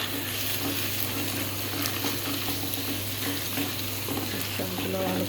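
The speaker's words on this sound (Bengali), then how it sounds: "সবগুলো ভালো করে মিক্স করে নিই।" Coconut paste, nut paste, salt, cumin, green chilli paste and a little turmeric being stirred together in a hot pan, with a steady close sizzle and soft scraping of the spoon throughout.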